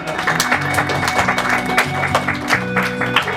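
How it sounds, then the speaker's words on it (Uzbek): A crowd at a neighbourhood gathering applauds as gifts are presented to the audience, a dense, steady burst of clapping close and loud throughout, with some voices mixed in. "guldiroz qarsaklar bilan qabul qilib olasiz albatta"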